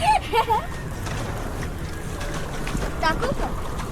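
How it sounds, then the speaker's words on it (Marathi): A rented pedal boat ride on water at Trimbakeshwar, with steady wind and water rumble throughout and people talking in short bursts. "चला दाखवतो तुम्हाला बोटिंग करताना पन्नास रुपये पर पर्सन बोटिंग"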